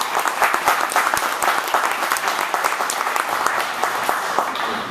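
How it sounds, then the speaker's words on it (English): Audience applause at a retirement celebration at a Bill Jacobs dealership in Joliet, dense steady clapping from a room of people throughout, close and even, with no one speaking over it. "Give them all a round of applause."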